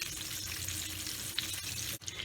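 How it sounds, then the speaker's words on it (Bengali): Katla fish pieces fry in hot oil with a steady, dense crackling sizzle that runs unbroken, close and fairly loud, with a brief dip near the end. "এবার এই দুটো বসিয়ে এই দুটো ভাজা করে"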